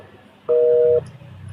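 A single loud telephone busy-signal tone sounds for about half a second during a phone call, with faint talk and background murmur around it.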